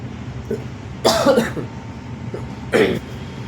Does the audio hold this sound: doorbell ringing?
no